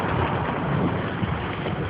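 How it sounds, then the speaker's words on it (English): A heavy rain downpour during off-road mudding makes a dense, steady hiss and patter, loud and unbroken throughout. "And it just come a downpour."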